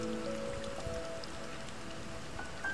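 Heavy rain falls at the tourist post near the crater lake of Mount Kelud volcano in Indonesia, a dense, even hiss of downpour that stays constant throughout with no voices.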